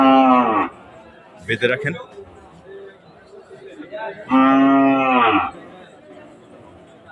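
Two loud, drawn-out cattle moos close by at a large cattle market, one at the start and a longer one later, with a person's brief speech between them.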